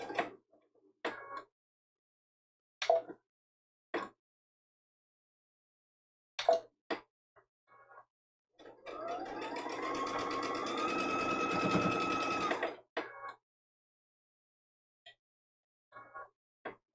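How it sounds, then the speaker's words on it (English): A sewing machine runs a quilt block seam edge to edge while adding small borders to a foundation paper pieced block, a single whirring burst of about four seconds with a rising motor whine, framed by sparse clicks and taps. "we're sewing the complete seam"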